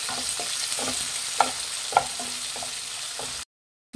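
Chopped medium-size onion frying in oil in a pan, a steady close sizzle with a few sharp stirring clinks and scrapes, ending in a brief silence before the sizzle resumes.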